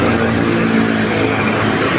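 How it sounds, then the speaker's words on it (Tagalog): A heavy dump truck drives along a road in the Philippines, its engine a loud, steady rumble with a continuous drone that never lets up. "Ayan yung mga killer ng kalsada, yung mga dump truck na yan."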